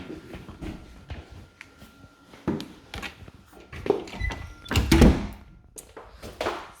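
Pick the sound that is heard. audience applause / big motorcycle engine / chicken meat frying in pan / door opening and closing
door opening and closing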